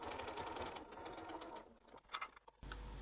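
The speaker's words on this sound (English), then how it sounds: "especially as we top stitch over it" A sewing machine topstitches a crossbody bag over fabric carriers, its needle running in a steady fast whir that slows and stutters near the end before one last short burst, close and alone.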